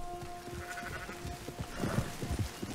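Sheep bleating in Red Dead Redemption 2, a few short close bleats over a faint background hum, with no talking.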